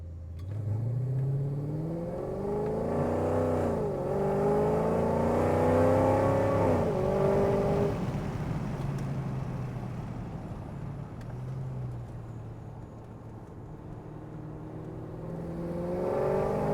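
A modified Mercedes E55 AMG accelerates on a late-night drive, its engine note climbing in pitch through two rising sweeps before easing back, then a low cruising hum with a fresh build at the end.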